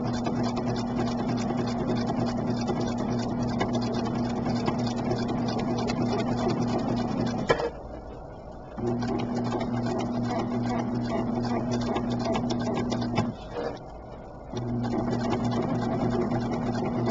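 A sewing machine runs steadily, stitching a seam on a skewed pinwheel quilt block made with foundation paper piecing, a constant whirring hum broken by two short pauses where the machine stops before starting again.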